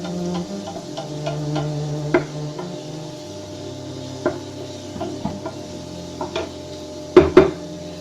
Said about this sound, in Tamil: அப்புறம் கொஞ்சம் மீடியத்துல வச்சு வதக்கணும்.